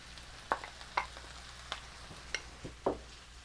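Cabbage and mushrooms are added to softened onions in a pan for a German sausage and potato stew, giving a soft sizzle with several sharp scraping clicks of stirring spaced about half a second apart.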